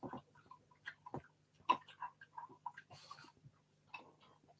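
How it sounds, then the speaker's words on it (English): Two dogs, Trixie and Rosie, eat treats indoors, producing faint, close, intermittent wet chomps and crunchy bites scattered over a quiet room tone. "If you can hear any weird chomping noises, I've got two dogs with treats here."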